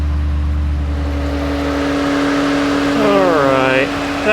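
A BMW E70 X5 4.8 V8 idles just after starting, with its electric cooling fan running: a steady loud hum and whir, with a rising whine near the end.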